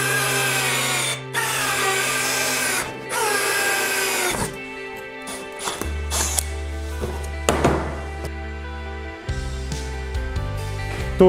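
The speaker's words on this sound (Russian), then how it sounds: "помощью коронки подходящего размера делаем отверстие под подрозетники" Power drill with a hole saw boring socket-box holes through laminate panels for a kitchen backsplash, a loud steady whine that bogs down and resumes, with thunks between cuts.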